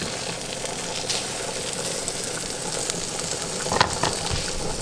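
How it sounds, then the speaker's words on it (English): Pompano fillet frying skin-down in a hot pan of butter, a steady close sizzle and crackle with a few brief scrapes and pops over the continuous hiss. "Got a hot pan of butter. Get over here and grab our fish. Always start with skin down first."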